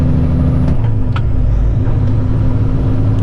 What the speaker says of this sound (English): So you see, I'm accelerating to 1500.